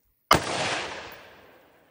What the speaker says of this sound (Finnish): Yksi paukku taas koneeseen ja katsotaan mitä tapahtuu.